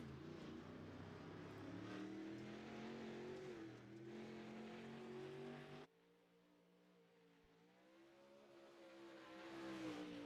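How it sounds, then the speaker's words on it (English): A dirt late model race car, the first out on track, revs loudly with rising and falling engine pitch, a sharp cut near the middle, then builds back up to a strong roar. "Looks like it's the 93 of Jackson Rexing. First car out on track."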